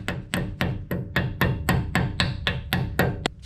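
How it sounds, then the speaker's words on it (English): A 3-pound hammer strikes repeatedly while seating an upper control arm on a 2004–2010 Ford F-150, about a dozen sharp, close metallic blows at an even, quick rhythm. "Get your 3-pound hammer, unless you have a bigger one and you're gonna hammer this in."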